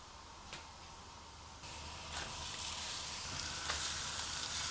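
Hamburger meat patties sizzle and fry in butter on a hot surface, a steady close crackling hiss that swells slightly as the meat settles, with faint ticking spatters and no talk.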